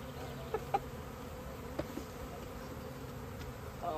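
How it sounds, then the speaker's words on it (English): A big swarm of honeybees buzzing continuously, a dense steady drone close by with a few louder bees passing near, no talking heard. "Goodness gracious, lots of bees."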